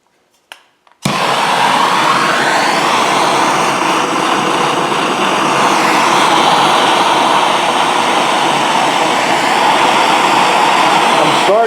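A gas torch fitted with a TS 8000 nozzle roars on after a few brief clicks and hisses, then burns as a loud, steady, broadband rush while heating gold for melting, with no other sounds over it.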